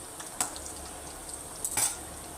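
Pumpkin flower fritters fry gently over medium heat, a soft, steady oil hiss with a couple of brief utensil clinks against the pan.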